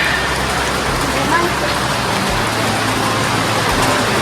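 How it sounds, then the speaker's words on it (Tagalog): Heavy rain pours down steadily and loudly at close range, a dense unbroken wash of drumming water with a faint low rumble of road traffic beneath it. "Oh, ang lakas ng ulan mga kalinga."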